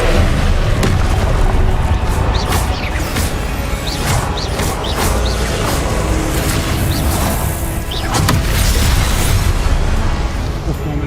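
Repeated Confringo blasting-spell explosions in the Hogwarts Legacy video game boom and crackle loudly amid dense combat noise, with a player shouting spell names over the top.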